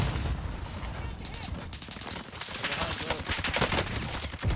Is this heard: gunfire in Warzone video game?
yes